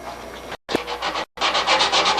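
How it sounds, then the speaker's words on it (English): Close, rhythmic sandpaper strokes lightly sanding epoxy-filled areas on an aircraft kit's canard and elevators, back and forth in three bursts separated by brief pauses. "I'm going to lightly sand these areas"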